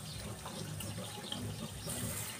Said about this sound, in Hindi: और थोड़ी सा दूध डालूंगी, थोड़ा पानी डालूंगी,